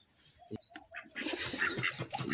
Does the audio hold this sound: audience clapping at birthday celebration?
no